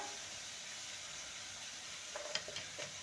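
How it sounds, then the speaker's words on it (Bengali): Onions and ginger paste frying in a pan, a quiet continuous sizzle with a few soft stirring scrapes near the end. "পেঁয়াজটাকে ভেজে নিয়েছি হালকা এবার সামান্য জল দিয়ে দেব যাতে শুকনো মশলাগুলো ধরে না যায় এবার দিয়ে দেবো আদা বাটা"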